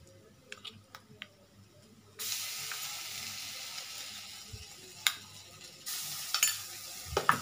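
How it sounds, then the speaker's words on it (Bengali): A chickpea curry with turmeric, ginger and mustard oil being stirred in a pan. Quiet utensil clicks are followed by a sudden loud sizzle that swells and fades, with intermittent scraping taps. "আমি এবার নাড়তে থাকবো।"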